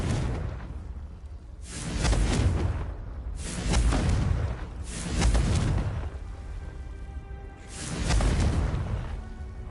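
Confringo fire spells explode in Hogwarts Legacy. Four loud, separate blasts each swell with a whooshing rush and fade into a rumbling tail, spaced about two seconds apart, with no voice over them.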